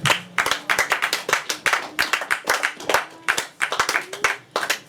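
A church congregation claps together in a brisk, steady rhythm to acclaim the Lord, loud and close, with a few faint voices in the background.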